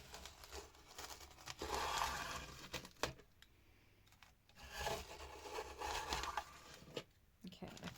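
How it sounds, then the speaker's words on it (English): Scissors or a blade work through many stacked layers of craft material, giving uneven bursts of rough rasping and scraping close by, separated by short quieter pauses. "I'm just going to cut through the many layers that we have here"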